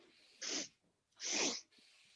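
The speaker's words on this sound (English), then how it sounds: "So there's 3 sniffs through the nose" Two sharp bursts of nasal inhaling, quick sniffs through the nose during a breath of joy yoga exercise, close and fairly loud with short silence between them.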